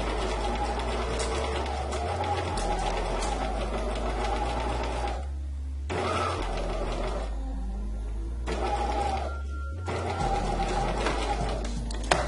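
A sewing machine runs in steady bursts while fabric is guided along a half-inch seam allowance to form a curved seam, its motor whirring and the needle chattering close up with brief pauses between runs.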